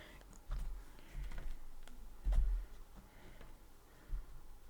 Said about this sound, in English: we'll give it a shuffle anyway